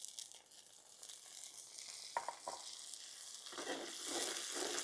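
Soaked moong dal going into a hot tempering with asafoetida and frying, a steady near sizzle that swells louder toward the end, with a few soft scraping stirs and crinkling crackles over the hiss; no talking.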